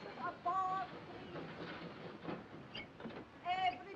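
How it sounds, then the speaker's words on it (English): A 1940s passenger train leaving a station, with a steady low rumble and clatter beneath people talking and a few brief whistle-like tones. "The train is leaving."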